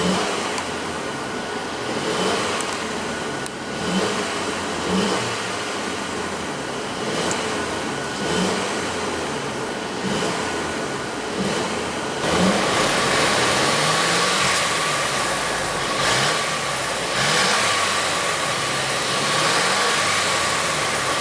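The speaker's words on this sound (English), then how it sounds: "let's go ahead and rev up that 2-liter 4-cylinder turbo and see how she sounds." A 2015 Mercedes-Benz C300 with a 2.0-liter turbocharged four-cylinder is revved repeatedly, the engine rising and falling in several pulls over a steady idle, loud and close with no talking.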